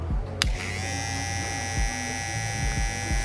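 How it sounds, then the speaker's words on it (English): A pair of original blue Babyliss FX One hair clippers runs with a steady, smooth electric hum, close and moderately quiet, with a brief click near the start. "these clippers are not loud,"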